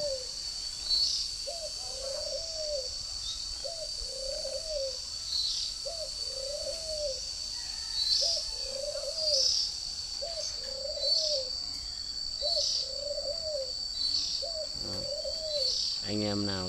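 A decoy dove kept in a round peach-shaped cage coos in a steady series of soft, rolling calls about every second and a half, close and clear, over faint high chirping from insects or other birds.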